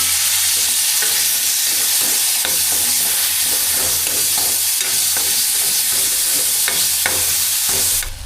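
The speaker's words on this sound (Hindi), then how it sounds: "जीरा को डाल दिया है कढ़ाई में, इसको थोड़ी देर ऐसे हिला लेता हूँ ताकि ये अच्छी तरह से जो है ब्राउन हो जाए" Cumin and tomatoes sizzling in hot oil in a kadai, a loud, continuous frying hiss with occasional stirring scrapes and clicks throughout, no speech.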